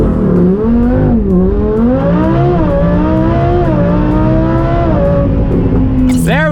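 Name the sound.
Lamborghini Huracan Performante full-throttle launch acceleration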